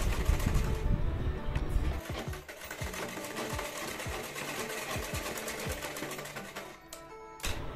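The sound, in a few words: sewing machine stitching a blouse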